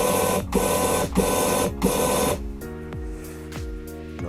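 A converted CNC milling machine has its axis jogged by joypad control, giving a loud whirring, buzzing motor drive in three bursts with brief pauses, then stopping to a quieter hum with several short clicks and squeaks.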